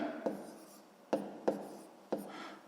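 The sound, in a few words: writing numbers by hand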